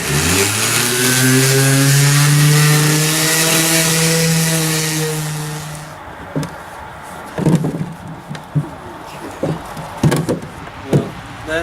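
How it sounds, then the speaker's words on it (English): A power sander on a ported fiberglass subwoofer box whirs loudly with a steady motor tone for about six seconds, then winds down, leaving scattered knocks and taps. "I'd actually suggest maybe 80 grit whenever you do your initial sanding"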